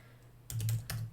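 A few quick keystrokes on a computer keyboard, soft close clicks in a short cluster followed by one more tap, in a quiet room.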